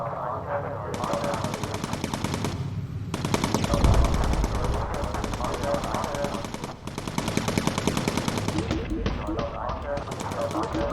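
Rapid machine gun fire from a bomber's gun turret in the video game Bomber Crew rattles in long sustained bursts with brief pauses, loud and dense throughout.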